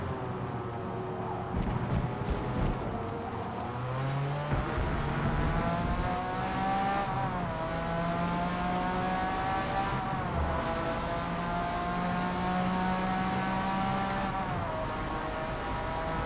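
A McLaren F1 GT race car in the Forza Motorsport video game howls through its gears, the engine pitch climbing and dropping with each shift over about sixteen seconds, loud and close with faint tire noise.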